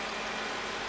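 A 2002 Mercedes-Benz S55 AMG with its 5.5 liter V8 idles nearby, a steady, even engine drone with a broad hum and no change in pitch.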